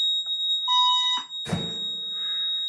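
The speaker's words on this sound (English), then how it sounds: "This is just a fire alarm test." A building fire alarm tests with a steady electronic tone and high beeping pulses, followed by a loud horn-like blast, during an annual fire system test of an NFS-320R panel with ECC-50/100 voice evacuation.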